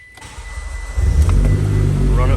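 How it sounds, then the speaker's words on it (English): A Mitsubishi Lancer Ralliart GSR engine cranks and catches about a second in, then settles into a steady, loud idle close by. "Start the car up."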